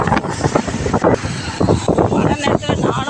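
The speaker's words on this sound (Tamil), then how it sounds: "காற்று சவுண்டு கேட்க ஃப்ரெண்ட்ஸ், புயல் காற்று அடிக்குது." Strong storm wind buffets the microphone in loud gusty rushes outdoors during light rain, with someone talking over it throughout.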